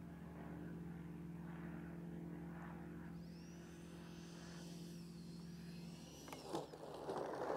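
FMS Futura 64mm EDF RC jet landing on grass at idle with full flaps: a steady droning hum throughout, a brief sweeping whine midway, then a short louder scuffing rush at touchdown near the end.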